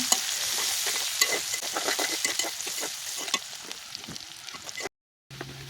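Chopped onion and garlic hiss and crackle in a pan, with frequent spatula scrapes and clinks over the steady frying, then a brief gap of silence near the end.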